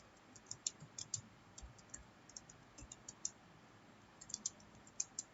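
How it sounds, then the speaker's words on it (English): Someone types a program in Notepad on a computer keyboard, producing faint, irregular light clicks and taps in quick clusters over quiet room hiss, no voices. "So we'll open it and now we'll type the program."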